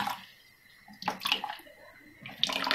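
Water is poured in small trickles while sheep intestines are cleaned by hand, giving short splashy gushes and gurgles that come in two bursts with quieter handling noises between them.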